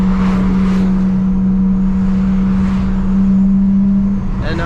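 A 2010 BMW E90 328xi with all-wheel drive drones loudly and steadily from inside the cabin after a downshift, its engine tone a constant hum under road noise with faint fluttering.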